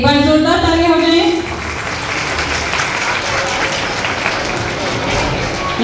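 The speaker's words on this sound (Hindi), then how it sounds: "एक बार जोरदार तालियां हो जाए।" Audience applause at a school annual function, a loud, dense clapping that swells and carries steadily throughout, with a brief voice fading out at the start.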